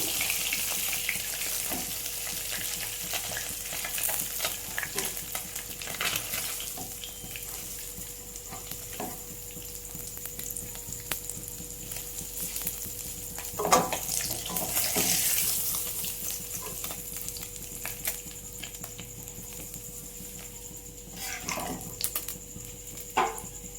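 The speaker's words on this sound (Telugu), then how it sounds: "ఫ్రై ఇలా వేయించుకోవాలా బాగా వేగాయి" Small fish frying in oil in a pan, giving a steady, dense crackling sizzle throughout with occasional louder pops and spatters, no talking.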